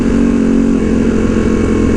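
A Ducati Panigale V2 motorcycle fitted with a Vandemon full exhaust and dB killers drones loudly and steadily at a constant engine speed, close and sustained, with no talk.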